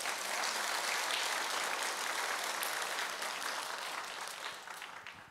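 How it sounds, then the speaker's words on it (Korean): A church congregation at a Wednesday worship service applauds a group of high-school students who led praise, steady massed clapping that holds for several seconds and then thins and fades toward the end. "여러분 친구들 위해서 박수 한번 해주세요."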